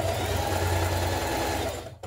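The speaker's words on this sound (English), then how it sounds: "Now we're going to sew a line of stay stitching around our neckline to stabilise it." A sewing machine runs steadily, stitching a line of stay stitching around the neckline of a spring top, a continuous close motor whir that cuts off abruptly near the end.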